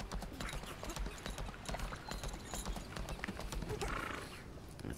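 Horse hooves clip-clop in a steady trotting rhythm inside the video game Lost Ark, close and continuous, with a brief whinny-like sound partway through.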